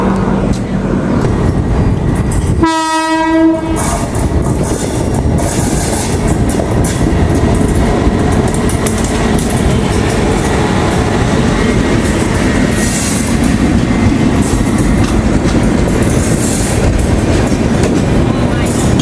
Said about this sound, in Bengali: আর এখন আমার পাশ দিয়ে এখন পেরোচ্ছে ভারতবর্ষে আরেকটা সিনিক রুট দিয়ে যাওয়া ট্রেন